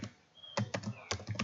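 Typing on a computer keyboard: a short quiet pause followed by about five crisp, close keystrokes in an uneven quick rhythm, with no speech.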